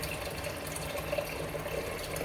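Water runs steadily from a tap into a cooking pot being filled for boiling on a rainy day; a continuous, even rushing close by, with no voices.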